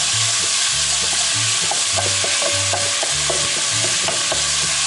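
Meat browning in a cast-iron Dutch oven for low-carb lasagna, a loud steady sizzle that fills the clip, with a metal tool scraping and stirring at intervals.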